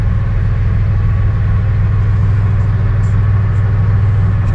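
A 1991 Ford F250 pickup with the 300 inline-six and five-speed runs steadily at idle, a loud, constant low rumble with an even mechanical drone and no voices over it.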